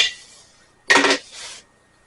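A spoon clatters and scrapes against a mixing bowl while salt is stirred into banana bread batter, one sharp clink followed by a softer scraping stroke, close and otherwise quiet.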